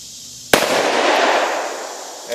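A single loud, sharp gunshot from a Smith & Wesson 629-4 .44 Magnum revolver fired outdoors at targets, followed by a long, rolling echo that fades slowly.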